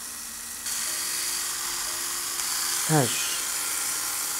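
A women's electric shaver switches on and runs with its blades spinning, a steady close hissing whir that holds without a break, while a voice speaks briefly.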